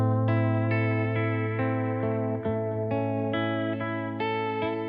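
Held chords through a vibrato effect giving a warbly old record-player quality, a steady, close tone whose pitch wobbles gently as the chords change every second or so.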